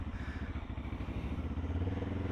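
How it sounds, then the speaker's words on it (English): A 2024 Benelli 702X motorcycle engine idles with a fast, lumpy, pulsing burble, close and steady, the throb growing slightly fuller toward the end, with no talking. "this bike sounds absolutely mental"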